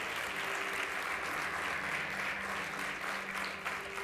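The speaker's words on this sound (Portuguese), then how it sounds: "Você pode aplaudir a Deus por esse versículo?" A church congregation claps steadily through a worship service, a continuous moderately loud wash of hands with no voices standing out.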